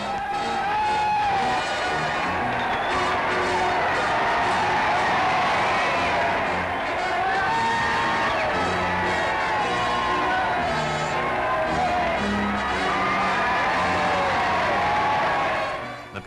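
Townspeople of Sfax celebrate the arrival of the 8th Army with a lively, continuous cheer of many voices, shouts rising and falling over a busy street din, sustained at full volume throughout.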